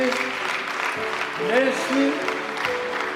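Wedding guests applaud together in a steady wash of clapping, with tonal sounds and voices mixed in beneath the crowd noise.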